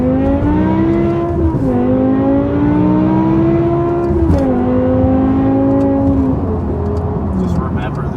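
A BMW M6 with a V10 engine and an F1-style exhaust revs hard, its high-pitched wail climbing steadily and then dropping back over several runs, loud and close throughout.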